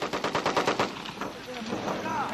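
An M60 machine gun fires a rapid burst on a range at Fort Leonard Wood, about eight sharp close shots in quick rhythm, followed by a short ringing tail and faint voices.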